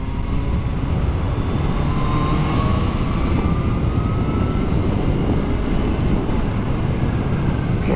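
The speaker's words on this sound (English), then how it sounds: "Supercharger just chirping away to itself." Kawasaki ZH2 supercharged naked motorcycle at riding speed, a steady close engine drone under heavy wind rush, with faint high supercharger whine rising and falling throughout.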